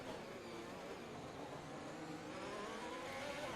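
Simulated Formula One race car engine in the F1 2021 racing game, a steady, dense mid-pitched drone that holds level throughout with a faint rise in pitch toward the end, with no talking.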